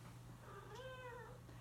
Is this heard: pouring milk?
no